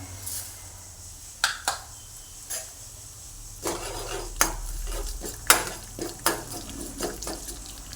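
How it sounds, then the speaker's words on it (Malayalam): Mustard seeds crackle and pop in hot oil, giving sharp irregular snaps over a steady low sizzle, a few louder bursts standing out near the middle. "ഇനി കടുക് ഇട്ട് കൊടുക്കാം"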